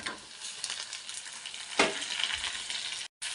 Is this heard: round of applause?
no